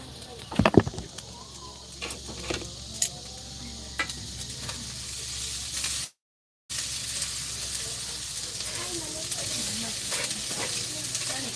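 Food sizzles and crackles in a pan while being stirred, with scraping knocks from the stirring early on, a steady frying hiss throughout and a brief dropout midway.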